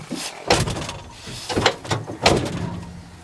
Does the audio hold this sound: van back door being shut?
yes